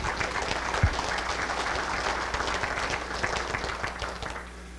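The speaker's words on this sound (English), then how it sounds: "So how about a round of applause for Dennis?" A crowd applauds at an agricultural annual meeting, with dense, steady clapping that holds for several seconds before easing off slightly.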